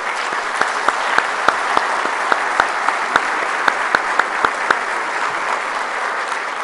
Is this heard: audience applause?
yes